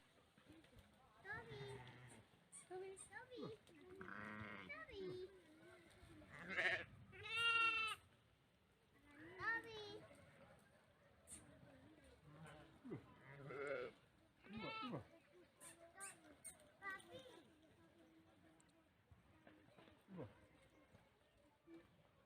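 A village flock of sheep and goats out to graze in the fields bleats repeatedly, with calls of varying pitch rising near and far, and a voice speaking between and over them.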